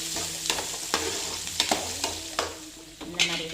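Sliced onions frying in hot oil with mustard seeds and curry leaves, a steady sizzle broken by sharp scraping clicks as the pan is stirred every half second or so.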